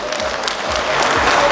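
A wedding hall audience claps together, a dense, even burst of applause that holds steady and swells slightly toward the end, with no talking over it.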